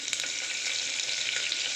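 Curry leaves frying in hot oil inside a pressure cooker, a steady close sizzle and crackle with brief bursts of spatter, no voices.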